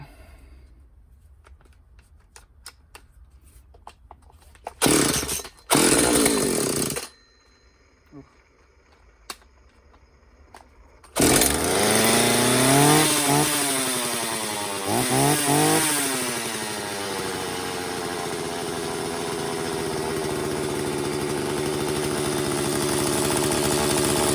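A refurbished McCulloch chainsaw, run without its bar and chain, fires in a few short bursts and then starts properly, revving loudly several times before settling into a steady, close idle.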